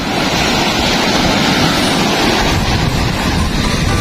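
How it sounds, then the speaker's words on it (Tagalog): Steady, roaring wash of large ocean waves breaking on a beach, loud and continuous with wind buffeting the microphone, no voices. "Tingnan nyo, ang laki ng alon."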